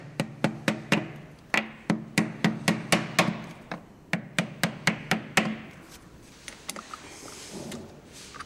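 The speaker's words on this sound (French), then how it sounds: "elle est taquée avec un taquoir et un marteau pour tout mettre au même niveau" A printing forme being tapped level with a wooden planer block and hammer: around twenty sharp, close knocks in a fairly steady rhythm that stop near the end, leaving a faint room hum.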